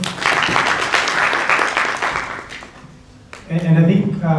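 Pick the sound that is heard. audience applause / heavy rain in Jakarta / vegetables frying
audience applause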